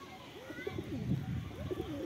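Domestic pigeons in a loft coo softly in low, rolling phrases, repeating over about two seconds at a quiet level with faint background noise.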